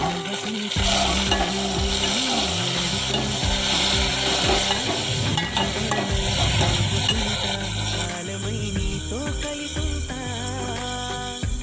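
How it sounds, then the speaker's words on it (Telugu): Fenugreek leaves with cumin are stirred in a hot pan for a curry, giving a loud, continuous sizzle and scraping throughout over a steady tonal background. "వేసి మంచిగా మెంతికూరని కలిపి మెంతికూర కొంచెం మగ్గనివ్వాలి"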